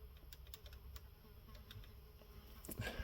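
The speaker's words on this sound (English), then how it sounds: "There's a little fly buzzing around. You can just hear it." A small fly buzzes around a room near a cassette deck, a faint thin drone with scattered soft ticks and clicks, quiet overall and ending in a louder thump.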